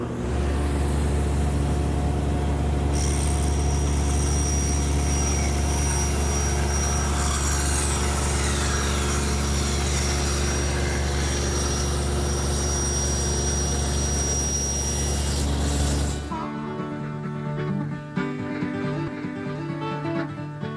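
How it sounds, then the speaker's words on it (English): A table saw rips wood against the rip fence in a woodworking shop, the blade spinning with a loud steady whine that rises as the board is fed through for about thirteen seconds, then winds down as the motor coasts. "I'm going to raise the blade just slightly and run it through."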